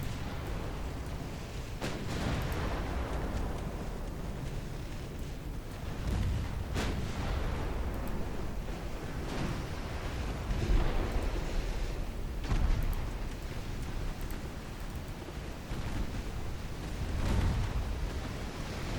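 Heavy naval gunfire from battleships in Ultimate Admiral Dreadnoughts, set in 1899: repeated deep booming salvos roll out at irregular intervals over a constant low rumble of sea and engine noise, with no voices.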